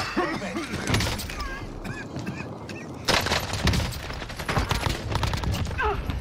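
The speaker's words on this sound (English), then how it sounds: "Shotgun." Shotgun blasts in a chaotic battle-royale video game match, several sharp bursts over busy game effects, with a loud cluster partway through and chatter underneath.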